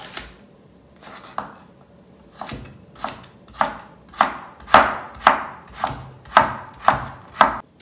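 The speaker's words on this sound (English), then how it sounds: "So I'm going to finely chop the carrots" A knife chops carrots for chicken noodle soup on a cutting board, close and crisp: slow scattered cuts at first, then a steady run of sharp, evenly spaced thuds, about one every half second.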